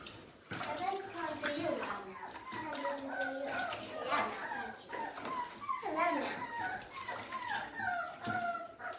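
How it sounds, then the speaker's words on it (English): A rescued puppy howls and whimpers in repeated high wavering cries while being bathed in a bucket of water, with splashing and children and adults talking close by throughout. "this is the one that keeps howling"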